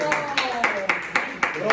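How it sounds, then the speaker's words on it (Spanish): A church congregation claps in a steady, rhythmic beat at a Spanish-language worship service, with a voice carrying over the clapping. "Un aplauso."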